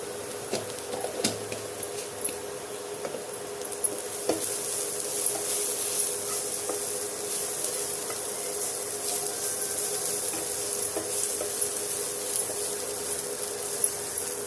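Garlic sautés in a pan with a steady, close sizzle, broken by occasional stirring scrapes and light clicks, with no voices.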